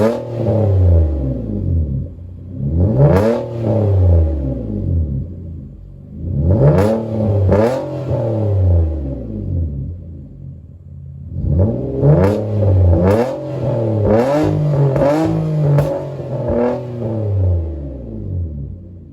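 A modified 2009 seventh-generation Nissan Maxima with an aftermarket exhaust revs repeatedly, each burst climbing to a raspy snarl and dropping back to idle, loud and close, with several quick blips packed together near the end.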